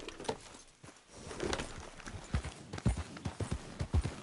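Horse hooves clip-clopping at a steady walking pace in Red Dead Redemption 2, a close, regular series of hollow knocks over faint outdoor ambience.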